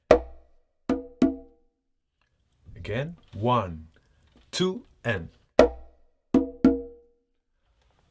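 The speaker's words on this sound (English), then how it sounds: "The middle drum of the Ijexá drums is called humpi." Humpi, the middle Ijexá drum, played by hand on a conga: a quick group of three sharp, close open-tone strokes, a voice counting, then another group of three ringing hand hits.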